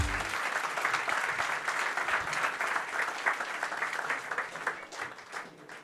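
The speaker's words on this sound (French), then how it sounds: "d'applaudir Monsieur Philippe Pierre." An audience at an evening business talk applauds, a dense sustained wave of clapping that holds steady and tapers near the end.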